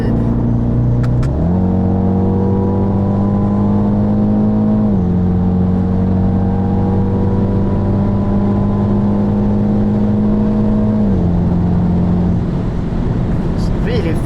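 A stationary BMW X2 M35i engine revs in steps, holding a steady high drone that rises, sustains for several seconds, then drops back toward idle; loud and close, with no talk over it.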